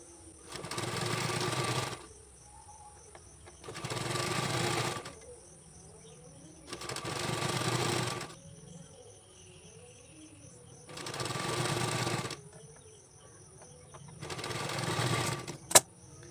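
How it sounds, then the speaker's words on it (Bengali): A sewing machine stitching along the edge of a rope, running in five evenly spaced bursts of steady whirring, each about two seconds long, separated by quiet pauses. "ঠিক সাইড বরাবর সেলাই করে যাবেন"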